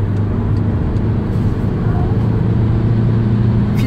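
Car cruising fast on a German autobahn at night, a steady loud interior drone of engine and road noise with constant low hum and tire rumble.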